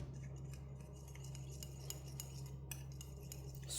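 A spoon stirs yeast into a small amount of milk, producing quick, light metallic clinks and taps against a bowl in an irregular rhythm over a low steady hum, close and quiet.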